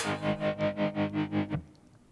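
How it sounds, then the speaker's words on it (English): A single electric guitar chord rings out with a rapid pulsing, tremolo-like effect, about seven throbs, then cuts off into quiet. "we want to strum it one time and wait so it sounds like it's 4 times"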